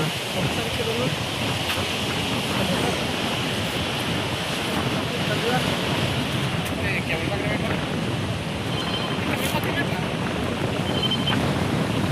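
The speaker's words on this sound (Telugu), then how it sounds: "గాలి ఎక్కువ వస్తుందిరా ఇక్కడ" Strong wind roars steadily across the microphone at Tenneti Park beach in Visakhapatnam, with a constant wash of surf underneath and no pauses for the whole stretch.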